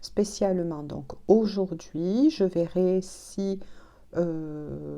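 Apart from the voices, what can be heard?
No everyday noise stands out behind the speech.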